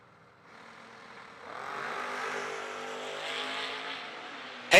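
Drag race cars launching off the line at a Mini-Million event, a distant engine roar that swells steadily from faint to loud over a few seconds, with a sharp burst at the end.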